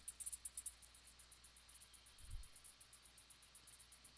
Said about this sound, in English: I took out most of the sound with EQ to make it really like cicada-y.